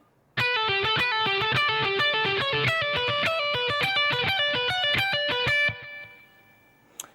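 A heavily distorted electric guitar runs through the rapid arpeggios of the Symphony of Destruction solo, a steady stream of bright picked notes close to the mic, before the final note rings out and fades.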